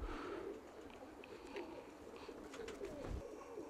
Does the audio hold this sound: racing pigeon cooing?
yes